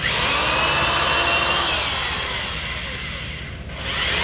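A power drill whines steadily and loudly as it bores a hole into the tongue of a prefinished floorboard during floor installation. The pitch dips briefly near the end and then picks back up.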